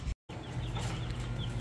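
Backyard egg-laying chickens cluck softly and continuously over steady outdoor noise after a brief dropout at the start, with no talking.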